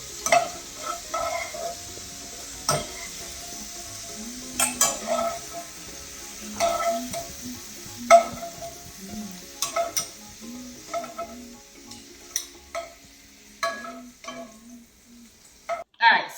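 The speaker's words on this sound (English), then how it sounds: "I've already sauteed my shrimp." Shrimp sautéing in a hot pan: a steady soft sizzle broken by frequent stirring scrapes and utensil clinks against the pan, no voices.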